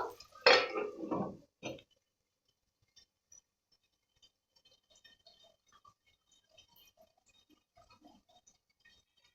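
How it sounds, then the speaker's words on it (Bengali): A lid goes onto a pan of cooking capsicum chilli chicken with a loud, close metallic clatter and rattle lasting about a second, followed by near silence with faint ticks. "এবার ঢাকনা দিয়ে আমি ঢাকা দেব এক মিনিটের মতো"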